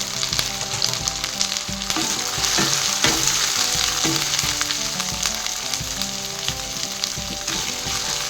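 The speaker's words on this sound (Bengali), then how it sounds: "আদা রসুনের পেস্টটা হালকা ভাজার পর আমি পেঁয়াজের সঙ্গে আবার মিষ্টি দিয়ে আবার কষিয়ে নেব" Onion with ginger-garlic paste frying in a pan for Bengali-style chilli chicken, a loud continuous sizzle with occasional stirring scrapes, no voices.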